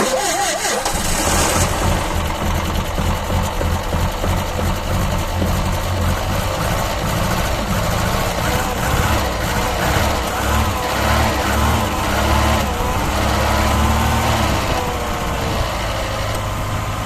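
A Citroën CX 20 hydraulique engine cranks briefly, catches and settles into a loud, steady idle, heard close up for the whole stretch.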